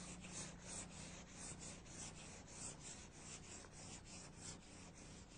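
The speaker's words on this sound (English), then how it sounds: "we're going to go with a medium to fine sandpaper and fine sand the primer" Steady rhythmic rubbing of medium-to-fine sandpaper over dried primer on a filled surface, back-and-forth strokes repeating about three times a second, close and continuous with no talk.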